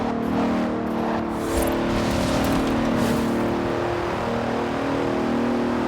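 Engine of a 2017 Bentley Continental Supersport in Forza Horizon 4, a steady droning hum holding near constant pitch and level, with a faint rise midway and no talk.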